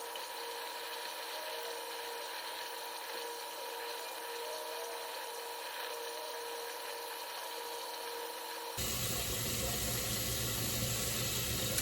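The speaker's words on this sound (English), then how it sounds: "I just kind of rinse it underneath the water" Facial cleansing tool rinsed under a running tap, a steady hiss of water with a motorized whine, turning into a louder, fuller splash near the end.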